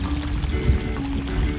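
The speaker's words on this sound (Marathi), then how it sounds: "पाणी साठावं म्हणून परत बांध फोडलाय जरा, म्हणजे पाणी यावं शेतात" Water rushes through a broken earthen bund into a flooded rice paddy, a close, continuous gurgling pour that stays loud and steady throughout.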